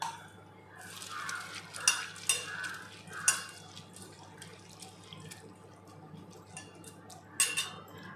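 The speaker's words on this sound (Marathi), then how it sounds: "आता हे मी धुवून घेत आहे स्वच्छ पाण्याने." Poha is rinsed with clean water in a bowl: gentle splashing and swirling with a few brief clinks against the vessel, close and fairly quiet.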